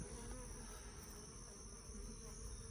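Bees swarm in an opened backyard beehive, a dense, steady buzz that holds evenly throughout without pause, close and continuous with no voices.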